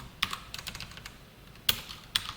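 Computer keyboard typed in short, quiet bursts while code is entered, a few sharper key clicks standing out close by.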